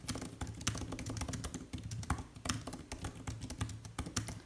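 Quick, uneven keystrokes clatter steadily on a Magic Keyboard for iPad Pro, close up and fairly crisp, with no voices.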